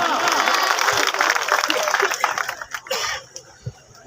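Audience applause at a live Punjabi/Urdu stage performance, dense broadband clapping that fills the first part and then thins into scattered claps near the end.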